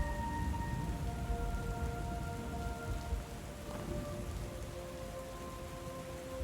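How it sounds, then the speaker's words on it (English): Heavy rain and rolling thunder from a stormy sea at Brandkrug in the Book of Hours video game, a steady dense wash with low rumbles throughout, with soft sustained tones running above it and no voices. "Thunder growling, waves pounding"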